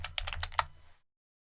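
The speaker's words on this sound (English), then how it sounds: "then I type my own text" A quick run of crisp computer keyboard keystrokes, about a dozen close, clicky taps in an uneven rhythm, typed in Blender, stopping abruptly into silence.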